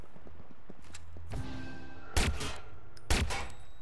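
Gunfire in the video game Watch Dogs: a few sharp, loud bursts of shots about a second apart, each with a short noisy tail, over quiet game ambience.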